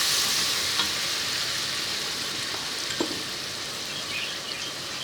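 A paste of ginger, garlic and green chili with spices sizzles steadily in hot oil, a constant hissing fry with a few soft stirring clicks, close and fairly quiet, no talking.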